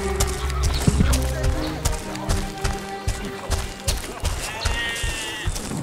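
Sheep bleat at intervals under a voice in a busy outdoor scene, with hoof clip-clops and other livestock noise mixing in the background.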